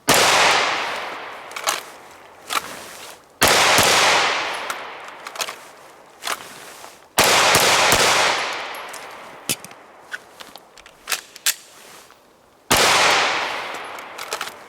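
Shots from a Smith & Wesson M&P 2.0 9mm pistol ring out loud and close, four main sharp blasts with echoing decays, spaced by a few seconds, with several smaller cracks and clanks between them.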